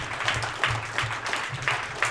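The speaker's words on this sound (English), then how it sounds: "Let's get a huge round of applause for the guy who makes it happen" Live show audience gives a round of applause, a steady wash of many hands clapping at moderate distance with faint low background music underneath.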